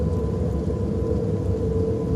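Rain and thunder in a horror video game, a dense steady wash of rainfall with a low continuous rumble, loud and unbroken, with no voices.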